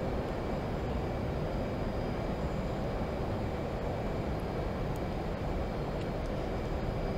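Twin engines of an F/A-18C Hornet at full throttle during a steep climb in the DCS flight simulator, a steady, loud, dense jet roar that holds unbroken throughout with no talk.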